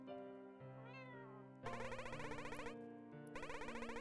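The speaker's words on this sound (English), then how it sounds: "Geke, what an adorable little cat you are" A small cat in the video game Momodora: Reverie Under the Moonlight meows in bright, stylized cries, first single then repeated, layered over steady game music with no talking.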